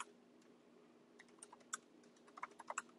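Quiet keystrokes on a computer keyboard: a scattered run of light clicks, sparse at first and then quicker toward the end, over a faint background hum.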